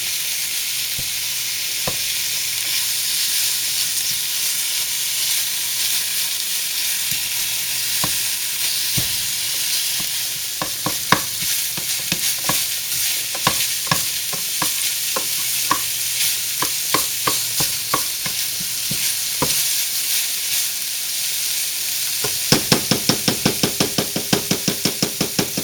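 Sausage sizzling steadily in a pan while a spatula stirs and breaks it up, with scattered scraping knocks growing busier and a run of rapid taps near the end.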